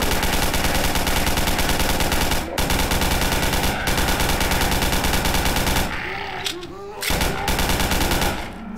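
Automatic gunfire in the video game Garry's Mod rattles loudly and almost without a break for several seconds, then drops off briefly before a last burst.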